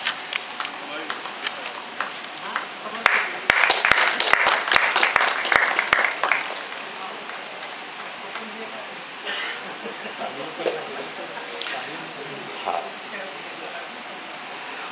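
An audience applauds at an honors ceremony marking a Bilaspur newspaper edition's tenth foundation day, a dense burst of clapping that swells loudly for a few seconds and then settles into softer, thinner clapping with some background voices.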